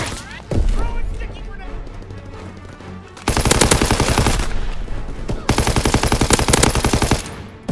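Enemy aircraft machine guns rattle in Call of Duty: WWII, two long loud bursts of rapid, evenly spaced shots after a booming impact, with battlefield voices shouting around them.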